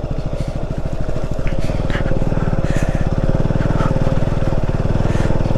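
A KTM Duke 125 motorcycle rides off-road on a muddy Himalayan mountain road on stock tyres, its single-cylinder engine loud and close with a fast, steady thrum that rises slightly partway through.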